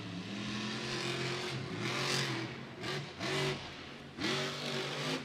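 A monster truck engine revs hard during a Monster Jam freestyle run at Raymond James Stadium, rising and falling in repeated loud surges over a roaring stadium background.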